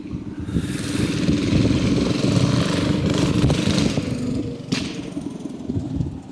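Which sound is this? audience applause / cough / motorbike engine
motorbike engine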